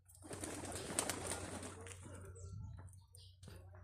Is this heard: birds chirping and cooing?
yes